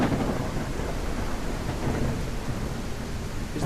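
Low thunder rumbling beneath steady rain in a windy storm by a pond, a continuous dense wash of noise with no voices.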